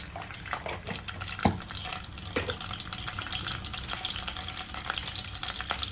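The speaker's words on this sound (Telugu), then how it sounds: "నేను ఆయిల్ పెట్టుకున్నా కరివేపాకు రెండు ఒక రెమ్మ కరివేపాకు వేసుకుంటున్నా" A sprig of curry leaves frying in hot oil in a home kitchen gives a steady, close crackling sizzle throughout, with a sharper pop or clink midway and no voices.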